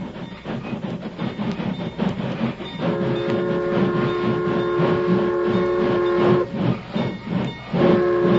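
A train slowing to a stop rumbles and hisses with clanking rhythm, and a steam whistle sounds in long sustained blasts, pausing briefly before sounding again.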